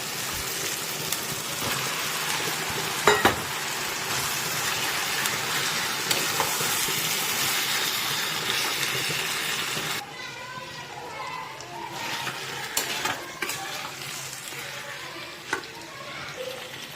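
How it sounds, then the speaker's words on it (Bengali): Meat fries in spiced oil for biryani, a loud continuous sizzle with occasional clatters of stirring. The sizzle drops to a quieter crackle partway through, and a voice talks over it. "মশলা ভালো করে কষিয়ে নিয়েছি, তেল ছাড়তে শুরু হয়ে গেছে। এই যে এবার মাংসটা দিয়ে দেবো।"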